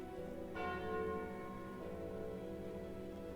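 Church bell from the Curse of the Bell card in the video game Slay the Spire: a single resonant bell strike that rings out and decays slowly, heard alone and fairly loud.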